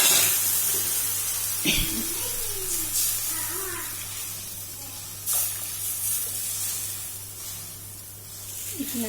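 Curd poured onto browned garlic and green chillies for chench bhaji, giving a sharp hiss and spray that settles into steady sizzling with a few clinks, under a low background hum.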